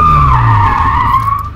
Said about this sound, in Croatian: I sad kreni, sad kreni auto pod ručnjak.